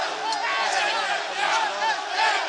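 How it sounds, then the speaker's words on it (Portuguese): A crowd of thousands cheering and applauding at Carmo, a dense, continuous roar with rising and falling shouts, loud and sustained throughout. "aplaudido pelas milhares de pessoas que no Carmo esperam há mais de 2 horas"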